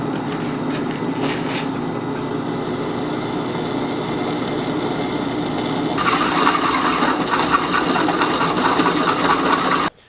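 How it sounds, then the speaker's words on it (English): A drill bores pilot holes through steel plates for making blacksmith's chop fullers. A steady motor whine runs throughout, and a harsher, brighter cutting noise grows louder from about the six-second mark. No one speaks. "Then get those drilled. Yeah, I'm a big fan of drilling pilot holes first."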